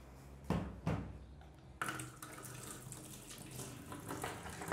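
Water pours from a tap into a container in a kitchen while making bolo de rolo. Two sharp knocks come first, then a continuous moderate splashing stream.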